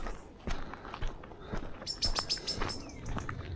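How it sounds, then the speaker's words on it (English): A blackbird gives a scolding alarm call in woodland, with short bright chirps and a thin whistle ringing out amid footsteps on a woodland walk. No voices are heard. "can you hear that? Yeah. That is a grumpy blackbird saying,"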